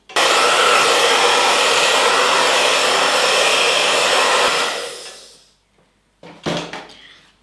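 A hair dryer blows onto photographic print paper, a loud, close, steady whoosh that runs for about five seconds, then winds down and stops, followed by a short knock of handling.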